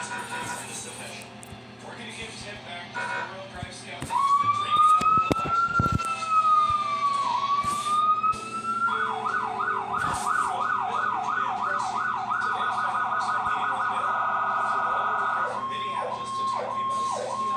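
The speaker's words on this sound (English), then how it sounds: "The Fenix 1 siren." A Fenix 1 electronic siren wails in a long rising and falling sweep, then switches to a fast yelp and a steady tone. It sounds loud and close, with faint background noise underneath.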